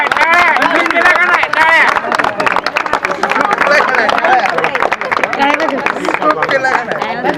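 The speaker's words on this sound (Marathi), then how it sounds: "टाळ्या टाळ्या." Applause and cheering at a baby's naming ceremony, steady crowd clapping mixed with loud overlapping voices and chatter throughout.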